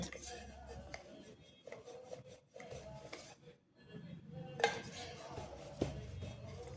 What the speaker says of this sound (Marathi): आता आपण ह्या पोळ्या ज्या आहेत ह्या थोड्या अशा पातळ अशा लाटून घेणार आहोत